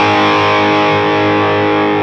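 Electric guitar on the bridge pickup with heavy distortion plays a song intro, a loud, continuous sustained chord with dense overtones ringing throughout, no pauses or voices.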